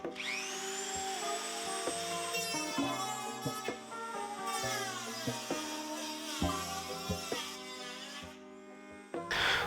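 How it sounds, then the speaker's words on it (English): A Dremel rotary tool cuts into a car fender while fitting fender flares. It gives a steady, close, high-pitched whine that spins up at the start and shifts in pitch as the cutting load changes, with no talking. "I'm gonna go ahead and take the Dremel to the fenders a little bit"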